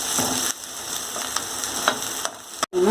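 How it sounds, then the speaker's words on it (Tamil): Garlic and curry leaves sauté in hot oil for a mutton kuzhambu, a steady close sizzle with a few light scrapes of stirring, cut off briefly near the end. "நல்லா வதங்கட்டும், பொன்னிறமாகணும்."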